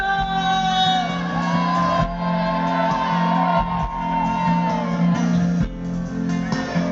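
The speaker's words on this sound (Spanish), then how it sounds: "Damos un grito, saludando a cámara, por favor." A crowd at an open-air verbena dance in Lugo lets out one long, loud sustained shout of greeting, many voices blending into a continuous roar with brief dips.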